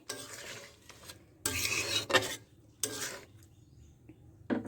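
A metal lid comes off a cooking pot of fish curry in several scraping, clattering bursts of metal against metal, fairly close and separated by short quiet gaps.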